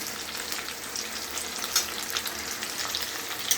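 Food frying in oil in a pan with a continuous close sizzle, stirred constantly so that faint scraping and stirring sounds rise through the crackle, with no talking.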